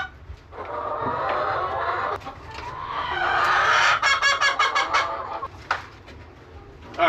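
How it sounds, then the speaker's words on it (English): Chickens at a backyard coop cluck and squawk in an overlapping, busy chorus, with a run of sharp, quick calls near the middle. "we're gonna let the chickens out"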